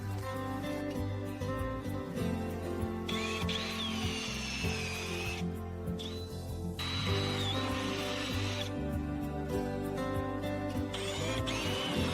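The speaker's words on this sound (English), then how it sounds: "Carefully drill the first 3 holes all the way through the sheet using a drill." A power drill whines steadily for several seconds at a time, close and loud, with brief pauses between runs as it bites through a Ford Courier's sheet metal.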